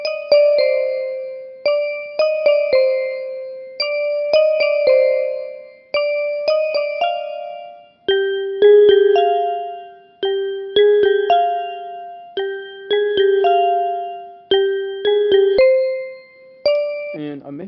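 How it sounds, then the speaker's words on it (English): A music box preset in FL Studio plays a slow, bright melody of plucked chime notes, each ringing out and decaying in a regular rhythm, clean and alone. "that was a music box preset, and it sounds like this"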